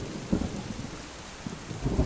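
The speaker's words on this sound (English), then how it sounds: "we're out on top of the roof in a storm" Steady video game rain hisses over low rumbling thunder that swells in a few deep rolls, an enveloping stormy rooftop ambience with no voices.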